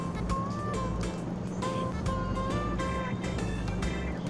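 A motorcycle engine in a video game runs at high speed, a loud, steady whine whose pitch keeps sweeping up and dropping back as the bike accelerates and shifts. There is no talk over it.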